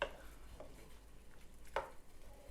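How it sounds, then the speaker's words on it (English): A spoon scrapes and knocks against a pot of brown stew chicken gizzard: a few faint, scattered clinks and scrapes over a quiet background. "so I'll give this a nice stir"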